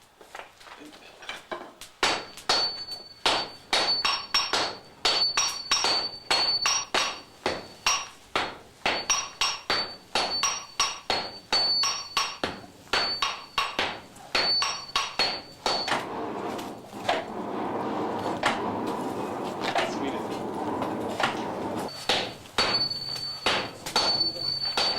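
Two sledgehammers strike a steel billet during forge welding, sharp ringing metallic blows falling in a fast steady rhythm, loud and close, with a brief break of softer noise partway through.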